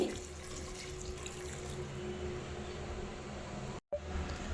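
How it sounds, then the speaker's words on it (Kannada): Water pours in a steady rush into a cooking pot of vegetables and lentils, continuing with only a brief break near the end. "ತರಕಾರಿ ಮತ್ತು ಬೇಳೆನ ಬೇಯಿಸ್ಕೊಳ್ಳೋಕ್ಕೆ ನೀರು ಹಾಕೋತಿದ್ದೀನಿ"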